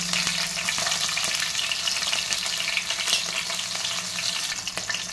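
Green chillies frying in hot oil for a fish curry, a steady dense sizzle and crackle close up with faint stirring scrapes, no voices.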